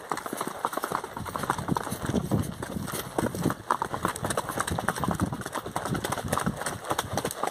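Hooves of a Quarter Horse crossbreed mare clip-clop steadily during a trail ride, a close, continuous rhythmic beat of hoofbeats lasting throughout without pause.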